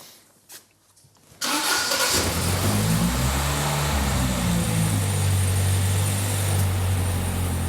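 A Gemini car engine cranks briefly and then fires after a fuelling adjustment, catching into a loud rough rev before settling into a steady, throaty idle, close by.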